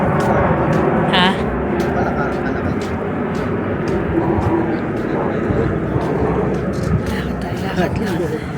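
An airplane drones overhead as a low, steady rumble outdoors, continuous beneath a conversation in the foreground.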